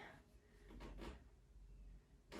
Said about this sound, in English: I'm kicking my door here.